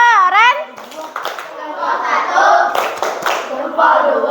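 Classroom of children doing a rhythmic cheer clap together, with bursts of clapping mixed with loud, excited children's voices speaking and chanting close by.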